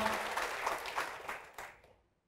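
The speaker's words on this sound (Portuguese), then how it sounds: "Vamos aplaudir ao Senhor, vamos aplaudir mais então." A church congregation applauding during a service, a brief burst of crowd clapping that fades away quickly into silence.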